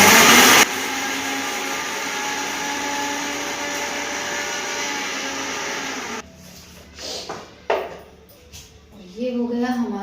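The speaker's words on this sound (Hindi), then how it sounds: "तो इन सारे मसालों को अभी झटपट से मिक्सी में घुमा देते हैं।" A loud, high-pitched mixer grinder whirs while grinding spices including fenugreek for several seconds, then cuts off, followed by rattling and a few short sounds.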